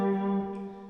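Electric guitar lick from a song: a single sustained, ringing note with a clear tone that slowly decays, heard close and alone.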